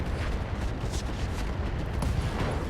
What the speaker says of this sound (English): Oh, rifle ammo explosion.